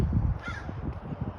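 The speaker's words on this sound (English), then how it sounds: "Bird." A crow caws once loudly and nearby, a harsh hoarse call rising over a low rumbling background, with no talk.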